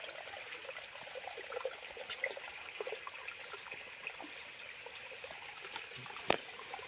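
A stream flows through the jungle with a soft, steady trickle and babble of water, small splashes scattered throughout, and one sharp knock near the end, heard close with no talking.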